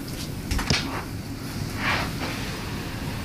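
A door is handled with a soft click and thump, then a quiet whoosh, over steady background hiss.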